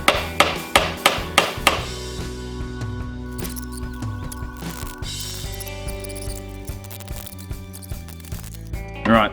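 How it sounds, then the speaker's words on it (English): A hammer strikes the threaded end of a large bolt in a rapid opening burst of sharp metallic blows, followed by lighter irregular taps and ringing metal clinks close by, with no talking. "Never hit the threaded end of a bolt"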